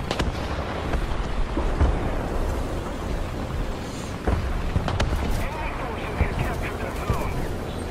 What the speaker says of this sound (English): who the fuck is shooting at me now?